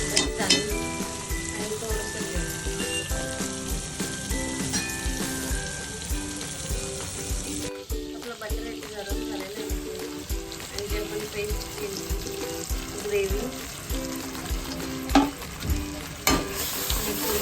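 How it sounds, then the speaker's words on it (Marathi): Amul butter sizzling and frying in a pan while being stirred, a continuous crackling hiss with scraping spoon strokes throughout, loud and close, overlaid by background music. "मी अमूल बटर टाकते."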